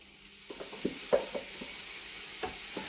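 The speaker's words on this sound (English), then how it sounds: "You can hear them starting to sizzle already, which is great." Sliced eggplant and courgette sizzling on a hot grill for moussaka, a steady close hiss of frying with scattered soft knocks and scrapes as pieces are placed and moved.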